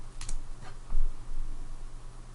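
A handful of quick keystrokes tap on a computer keyboard while a local web address is entered, sparse clicks close up over a steady low room hum.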